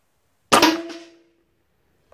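A single sharp airgun shot firing a 120-grain .357-caliber steel core pellet with the air reservoir down to about 2,000 PSI, a loud close crack with a ringing tail that fades over about half a second.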